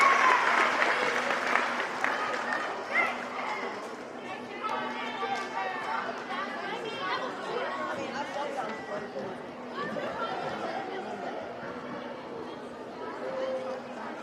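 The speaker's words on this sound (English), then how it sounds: "let's give a round of applause to our CCMS baseball team" At a middle school awards assembly, the audience applauds the school baseball team of sixth to eighth graders, starting with a burst of clapping that fades into general crowd chatter and voices in a large room.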